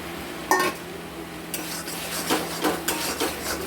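Potatoes and eggplant dropped and stirred into frying, oil-separated spice paste for a homestyle catla fish curry, giving a sharp clatter, then scraping and soft sizzling with several spoon-against-pan knocks.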